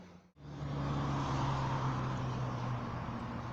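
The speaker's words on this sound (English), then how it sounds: "we can get the noise of traffic for a start" Steady road traffic noise beside the Rochdale Canal at Littleborough, a continuous low rumble that swells after a brief dip at the start and holds at a moderate, fairly distant level.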